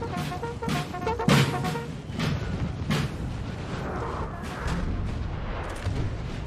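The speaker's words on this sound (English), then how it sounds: "Chevaliers getting just shot up by artillery." Artillery fire in the Napoleonic battle game Napoleon Total War, where cannon shots thump repeatedly at irregular intervals amid a rumbling battlefield din, some blasts near and sharp, others more distant.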